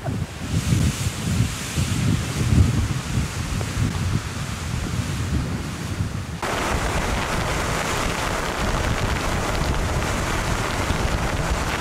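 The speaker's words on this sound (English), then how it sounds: "that's a fair gust of wind. Yeah, that's pretty windy." Strong gusty wind from Cyclone Terri at Pardoo Roadhouse, Western Australia, buffets the microphone, roaring in surges that shift from rumbling bursts to a steady, hissing rush.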